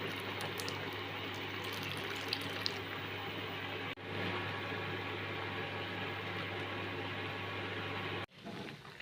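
Dissolved tamarind water poured into a spinach soup, a quiet, continuous trickle of liquid over a low steady hum, stopping near the end.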